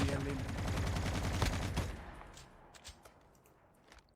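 A burst of rapid automatic gunfire from the mobile shooter game Call of Duty Mobile rattles loudly for about two seconds, then drops to scattered faint shots and small clicks, with a voice talking over the game.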